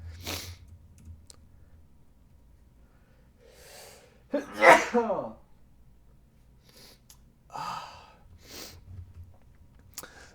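A single loud sneeze bursts out in a quiet room, with a few soft breaths and faint clicks scattered before and after.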